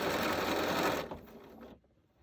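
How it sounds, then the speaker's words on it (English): Sewing machine stitching quilt pieces, a steady close whirring run that slows and stops after about a second, followed by a few faint mechanical clicks. "start sewing"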